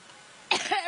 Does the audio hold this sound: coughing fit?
yes